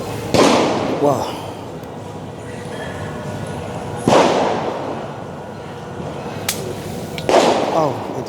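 Firecrackers go off at night outside the gate of the Mako Brimob police headquarters on Jl. Kwitang, Jakarta: three sharp, loud bangs spaced several seconds apart, each echoing off buildings, with voices talking in between.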